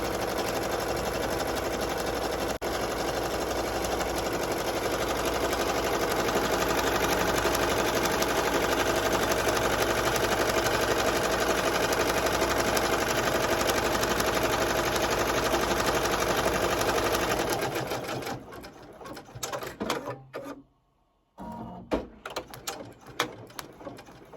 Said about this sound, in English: I'm going to press start. And it's going to stitch that down.